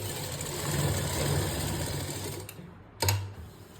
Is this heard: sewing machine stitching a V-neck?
yes